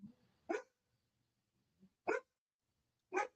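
A dog barks three times at spaced intervals, each a sharp single bark, fairly close, with faint softer yips between them.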